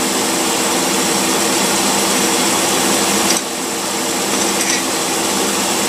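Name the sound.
engine running during two-barrel carburetor test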